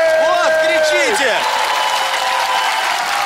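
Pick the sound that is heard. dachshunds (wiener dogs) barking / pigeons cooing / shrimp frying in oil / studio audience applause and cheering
studio audience applause and cheering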